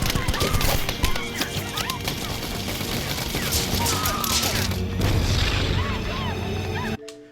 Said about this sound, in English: all that bombing going on in the background would not be happening